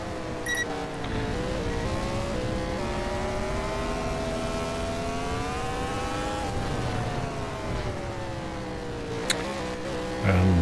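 A race car engine in the Short Track Showdown racing game holds a steady, droning high-speed whine down the straight at Colorado National Speedway. The pitch rises and falls slightly and is heard alone, with a brief click near the end.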